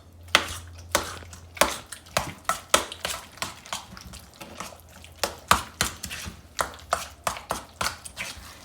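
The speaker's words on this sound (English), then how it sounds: "And you just stir it." Ricotta cheese mixed with two eggs for Macedonian phyllo squares, stirred with a utensil knocking and scraping against the bowl in a quick, irregular series of sharp taps, near and fairly clear with no talk.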